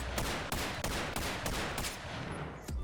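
Rapid gunfire from a Desert Eagle pistol in the Bonelab VR game, loud and close, with about eight sharp reports in an uneven rhythm over a continuous dense background.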